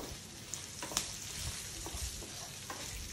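Cashew nuts frying in a pan, stirred now and then, give a steady soft sizzle with light scraping clicks of the spoon, close and alone.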